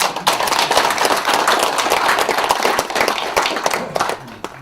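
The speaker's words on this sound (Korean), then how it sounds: "우리 세종대왕님께 박수 한번 주십시오." An audience at a Korean lecture on Hunminjeongeum gives a round of applause for King Sejong, dense and loud clapping that holds steady and then thins out toward the end.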